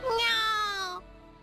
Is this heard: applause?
no